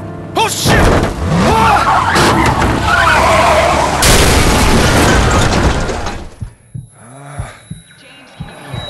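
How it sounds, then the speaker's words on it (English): Truck crash in the horror game Into the Dead 2, a loud sustained burst of crunching, skidding impact noise that cuts off abruptly into quiet, followed by scattered thumps and voices. "Oh, the truck's wrecked!"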